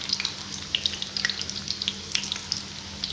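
Potato finger snacks frying in hot oil give a steady crackling sizzle, with dense bright pops and spits scattered throughout at close range.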